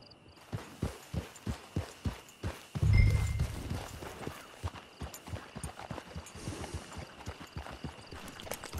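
Slow, steady clip-clop of a horse walking in the video game Red Dead Online, evenly spaced hoofbeats with a brief low rumble partway through.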